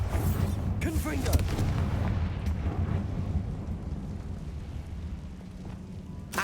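Confringo fire curse from Hogwarts Legacy exploding in a tomb: a loud booming blast with a rough rumble that slowly dies away over several seconds.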